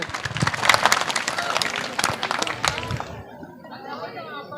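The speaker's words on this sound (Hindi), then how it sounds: "ताली, जोरदार ताली बजाइए।" Villagers at a welcome ceremony in Rampur clap loudly in a crowd, with chatter mixed in, before the applause thins out and fades after about three seconds.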